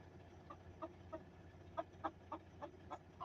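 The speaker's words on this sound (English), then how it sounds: "I hear her clucking" A hen shut in a box gives soft, intermittent clucks, a string of short, muffled calls spaced irregularly over a quiet background.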